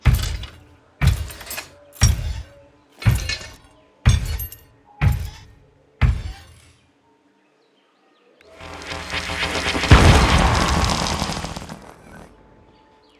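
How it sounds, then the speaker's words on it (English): Heavy golem footsteps in a video game: seven heavy, evenly spaced metallic stomps boom with ringing tails, then a longer crashing, grinding rumble swells and fades. "The footsteps use a combination of heavy metal clanks, car samples, earthquake,"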